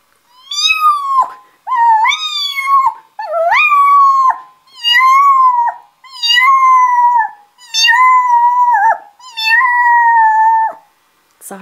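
A voice imitates a frantic kitten lost for half an hour: seven loud, drawn-out wailing meows in quick succession, each held longer and more strained than the last, up close and alone.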